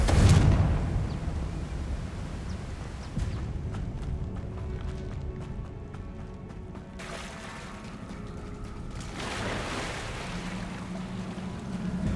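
Confringo fire spell from the video game Hogwarts Legacy, a loud burst at the start followed by a rumbling, crackling blast that trails into steady roaring noise, swelling again toward the end.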